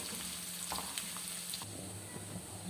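Onions frying in oil to make a homemade hair oil, a steady close sizzle with occasional crackles and pops, no voices.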